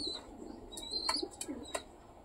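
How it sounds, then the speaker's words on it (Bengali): Soft, low cooing of a wild pigeon on a roof close by, with a few brief flutters and light scraping sounds, no voices. "বুনো এসছে মনে হচ্ছে, চালের উপরে আওয়াজ পেলাম"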